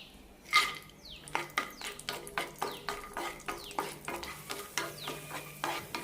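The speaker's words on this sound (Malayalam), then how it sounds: "അണ്ടിപ്പരിപ്പ് മുന്തിരി വറുത്തെടുക്കാം" Cashews and raisins fry in ghee in a pan for bread halwa, with a spoon stirring and scraping in a steady, close rhythm over a soft sizzle.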